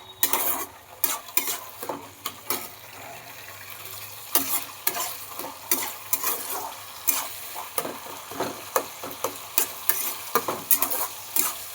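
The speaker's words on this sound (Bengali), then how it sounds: "এবার চালটা দিয়ে খানিকক্ষণ একটু নাড়াচাড়া করে নিচ্ছি।" A utensil stirs soaked Gobindobhog rice in a pan, making repeated close scraping strokes in a steady rhythm over a soft background sizzle.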